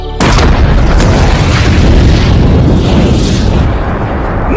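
A loud, deep car explosion booms close by and rolls on as a sustained roar for several seconds.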